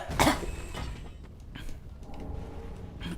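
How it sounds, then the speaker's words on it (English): A person with a sore throat lets out a sharp, close cough followed by rougher throat-clearing sounds, with faint background noise. "Sorry about the coughs."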